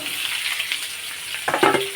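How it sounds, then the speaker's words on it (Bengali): Mango pieces fry in a pan with a little oil and black cumin seed tempering, giving a soft steady sizzle that swells briefly toward the end as they are lightly stirred. "অল্প একটু ভাজা ভাজা করব, খুব বেশি হালকা একটু নাড়বো।"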